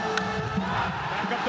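Stadium crowd roaring and cheering during a World Baseball Classic game between Italy and Chinese Taipei, a dense, steady wall of massed voices and shouts filling the whole moment.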